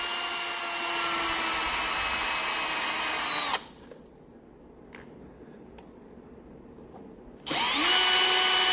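A power driver whirs loud and close as it backs out 2.5 mm cap screws on a 1/14 Komatsu D575 RC dozer, spinning steadily, pausing for several quiet seconds with small clicks, then starting again.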